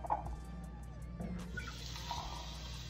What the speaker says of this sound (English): So, I'm going to put the water